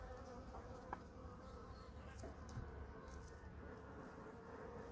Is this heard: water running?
no